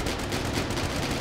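A robot's guns firing nonstop in the video game Scraps, a dense, steady rattle of rapid shots with no breaks, fairly loud and continuous across the whole moment.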